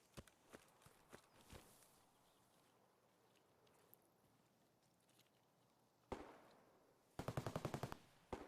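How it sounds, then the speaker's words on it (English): Distant gunfire from a firefight at an extract in Escape from Tarkov: scattered single shots early, then a sharp burst near the end and a rapid automatic volley, faint and far off over quiet ambience. "No idea what that fucking gun is, but it's definitely someone fighting at the extract"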